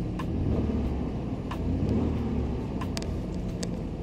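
A 2004 Pontiac Montana van running soon after a cold start, its engine rumbling steadily up close with a few faint clicks over the top.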